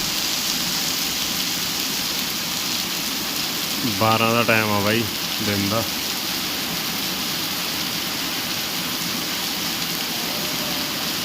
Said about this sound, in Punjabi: ਮੀਂਹ ਬਹੁਤ ਆ